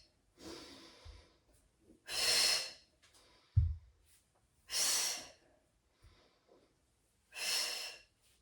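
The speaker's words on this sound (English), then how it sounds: "Exhale through your mouth." Four long, breathy exhales through the mouth during a hip flexor flow class, evenly spaced and fairly close, each lasting about a second, with quiet pauses and a low thump between them.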